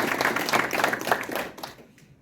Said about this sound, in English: this is a special clap for yourself because you did it in advance.